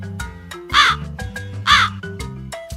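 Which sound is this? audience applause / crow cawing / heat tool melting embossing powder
crow cawing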